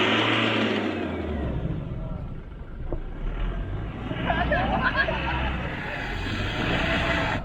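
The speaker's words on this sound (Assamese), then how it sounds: "এইখন গাড়ীখন শ্লিপ মাৰিছে যাব নোৱাৰি" A car engine revs hard and steadily as its wheels slip on a snow-covered mountain road near Tawang during heavy winter snowfall, a close, continuous strained drone lasting throughout.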